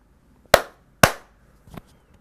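Two sharp, close hand claps about half a second apart, then a fainter third clap, with no talking.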